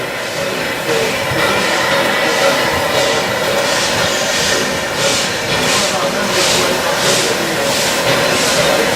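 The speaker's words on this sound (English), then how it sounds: "a loco double-header one coming back." A double-headed steam locomotive train passes at the Keighley & Worth Valley Railway spring steam gala, a loud continuous hiss and rumble with rhythmic bursts that swell and repeat as the train goes by.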